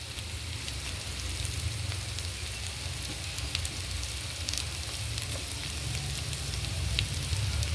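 Carrot pieces fry in a pan with ginger garlic paste for a millet and moringa-leaf kichidi, giving a steady, even sizzle that stays close and unbroken with no voices.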